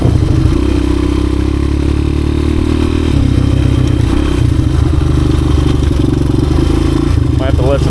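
A 1986 Honda XR200R dirt bike engine runs steadily while being ridden, a loud continuous mid-pitched drone with a gear change midway, with talking over it.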